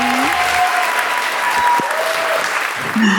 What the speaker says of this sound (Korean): 박수로 축하해주세요